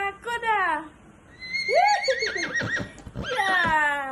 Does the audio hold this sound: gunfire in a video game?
no